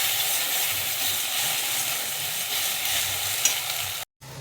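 An egg fries in well-heated oil in a wok, giving a loud, steady, close sizzle with a constant hiss that cuts off briefly near the end.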